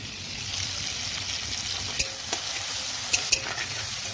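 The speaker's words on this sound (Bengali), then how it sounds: "এবার দিয়ে দেবো আমি টমেটোটা" Tomato frying in a pan with onion, chilli, cumin, salt and turmeric, a steady close sizzle with a few sharp pops and scraping stirs, no voices.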